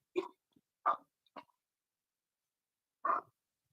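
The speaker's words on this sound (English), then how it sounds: "Can you hear the dogs barking?" Several short, separate barks from dogs come at uneven intervals, three in the first second and a half and one more after a pause, moderately near and clear against otherwise quiet surroundings.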